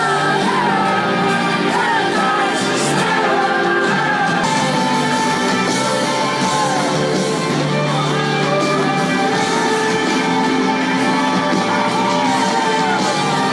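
A loud concert crowd yells and whoops throughout, with one audience member, Marianne, screaming among many overlapping voices in a dense, continuous roar.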